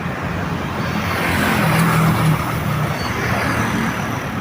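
Steady road traffic with container vans rolls along the C5 road near the airport, a continuous broad engine rumble that swells slightly as heavy vehicles pass close by.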